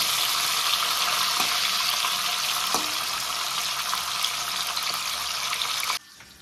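Pieces of pointed gourd (potol) fry in hot oil with a steady, loud, broadband sizzle for about six seconds, with a couple of faint clicks, before cutting off abruptly.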